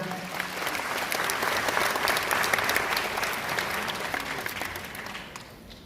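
Applause at a World Day ceremony for foreign residents, many people clapping together in a full, even wash that swells slightly and then fades toward the end, heard from a moderate distance.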